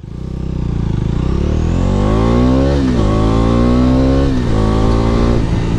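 A 250cc city motorcycle brakes from 60 to 0 on its rear brakes with traction control switched off, the engine note falling in loud stepped downshifts over a steady close rumble.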